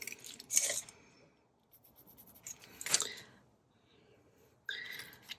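A pencil scratches marks onto craft card for a paper bag project, in three short, close scraping strokes separated by quiet pauses.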